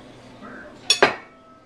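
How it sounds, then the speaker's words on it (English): A metal spoon stirs beef broth in a pot, a faint scrape followed by two sharp clinks against the side close by. "Stir it up"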